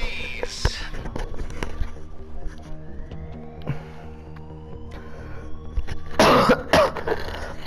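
Someone coughs in GTA Online during a casino heist, several rough coughs in quick succession, followed near the end by a loud, harsh burst of coughing and throat clearing, with quiet mutters and background noise.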